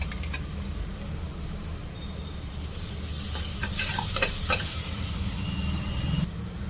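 Green chilli paste and fried onions sizzling in a pan, stirred with clustered utensil scrapes and clinks; the sizzle swells louder partway through and stays close and steady.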